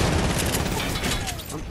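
Continuous dense gunfire from a light machine gun in a shooter video game, loud and sustained for the whole moment under steady noise.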